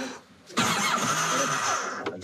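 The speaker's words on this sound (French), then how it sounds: "Ah, démarreur tourne dans le vide." Jet ski starter motor spinning without the engine catching, a short whirring crank that runs for about two seconds after a quiet start.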